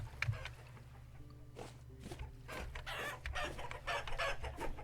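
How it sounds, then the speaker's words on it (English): Chickens and a rooster on a farm in the Vintage Story video game cluck in short, repeated bursts at moderate volume. The clucking is mixed with footsteps and a low background hum. "I got at least 1 rooster in that batch still"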